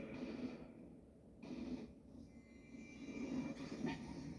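A train passes in a video game, a steady low rumble with surging rolls and faint squeals, fairly quiet and alone with no voices.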